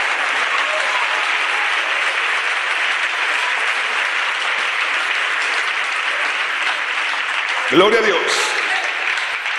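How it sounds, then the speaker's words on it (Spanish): Church congregation applauding in a worship service, a steady, full roar of clapping sustained for several seconds, with a voice calling out briefly near the end as the applause carries on. "Dale un aplauso al Rey."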